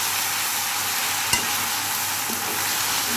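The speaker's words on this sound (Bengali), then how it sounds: "রসুন আর আদা বাটাটা দেবো, দিয়ে একটু নাড়াচাড়া দিয়ে নেব" Garlic and ginger paste fries in hot oil with a loud, dense, continuous sizzle, and one brief knock of a utensil stirring it; near, steady, no voices.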